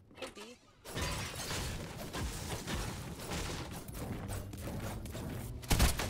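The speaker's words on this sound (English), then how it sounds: "I think Catty team, somebody shooting." Gunfire in Fortnite Chapter 2 Season 3 near Catty Corner, a dense, sustained burst of shots and impacts running steadily from about one second on, with a sharper loud crack near the end.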